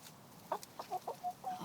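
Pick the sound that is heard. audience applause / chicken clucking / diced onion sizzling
chicken clucking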